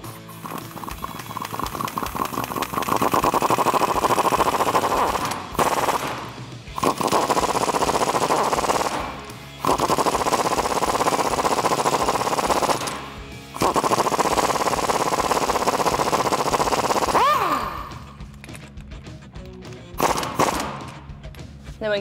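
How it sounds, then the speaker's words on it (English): A power impact wrench with a 15mm swivel socket tightens suspension bolts on a Jeep Wrangler JK during a Teraflex lift install, firing in four long, loud rattling bursts split by brief pauses, then a few short taps at the end. "Now we can just tighten those up with our 15mm swivel socket."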